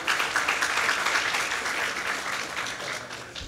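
Steady applause from a crowd at a government event with New York Governor Cuomo, a dense wash of many hands clapping that holds at full strength throughout without pause.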